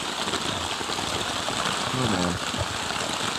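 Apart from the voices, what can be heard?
heavy jungle rain downpour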